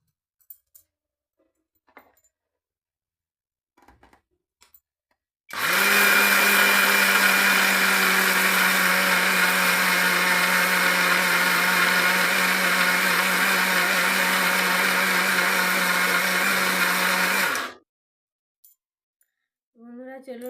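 An electric mixer grinder purees soaked ingredients with water into a paste for pitha, a loud, steady whirring roar lasting about twelve seconds, framed by faint clicks and handling sounds before and after.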